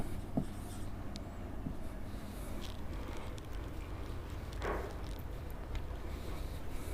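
A pen scratches across paper or a board in short, close strokes with brief pauses between words, fairly quiet over a low background rumble, with no talking.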